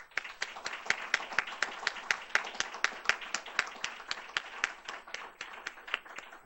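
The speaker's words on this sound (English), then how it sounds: "please give a round of applause for the one full amazing year of dedication" Applause for the chief residents at a medicine grand rounds session: a small group of distinct, sharp hand claps in a quick irregular rhythm, fairly close and moderately loud, lasting throughout.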